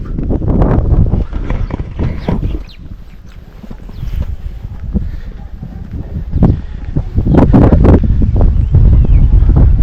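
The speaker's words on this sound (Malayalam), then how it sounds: "നല്ല കാറ്റ്" Strong hillside wind at Poondi near Kodaikanal buffets the microphone in loud, continuous roaring gusts that swell and ease throughout.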